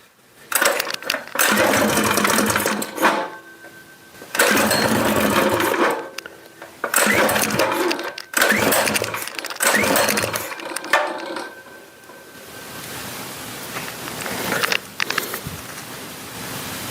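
A small carbureted gasoline engine, its fuel tank level with the carburetor inlet, runs with a busy rattling drone that surges in several loud bursts separated by short dips, then settles into a softer, steadier hiss toward the end.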